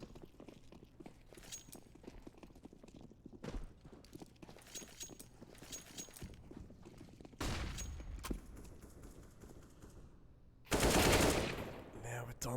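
Pistol gunfire in a competitive esports playoff match, crackling in scattered bursts over steady background game noise, with a loud, dense flurry of shots near the end.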